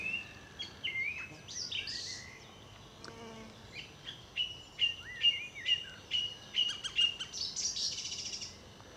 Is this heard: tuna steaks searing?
no